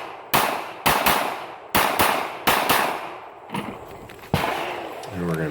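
Sharp shotgun blasts fire in quick succession at small steel targets on an outdoor range, about six loud cracks spaced roughly a second apart, each followed by a ringing metallic tail.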